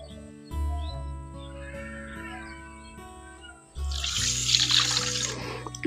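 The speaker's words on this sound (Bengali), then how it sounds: "একই বাটিতে করে 1 বাটি দুধ দিয়ে দিচ্ছি।" Milk poured from a bowl onto sugar in another bowl while mixing a cake batter, a steady liquid splash building near the end alongside faint background hum.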